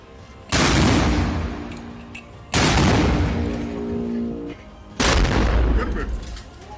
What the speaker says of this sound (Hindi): हमास के कुछ लड़ाके छिपकर एक लॉन्चर में लगातार रॉकेट भरकर उन्हें फायर करते हुए दिखते हैं